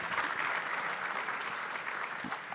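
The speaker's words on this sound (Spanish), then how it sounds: "Un gran aplauso." Audience at a panel discussion applauding, a dense, even roar of many hands clapping throughout the short stretch, fairly distant and without pauses.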